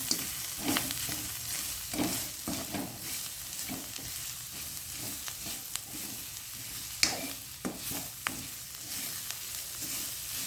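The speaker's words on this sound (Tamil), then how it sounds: "போட்டுட்டு வடிவா எல்லாத்தையும் கலந்து விடுவோம்." Puttu kottu being stirred and tossed with curry, turmeric and spices in a pan, a steady close scraping and sizzling with small clinks of the spoon throughout, no talking.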